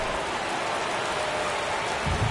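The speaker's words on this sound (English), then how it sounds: "This rain is not letting up." Steady rain falls in a baseball video game, a dense continuous hiss of drops with a faint low rumble near the end, loud and close with no talk over it.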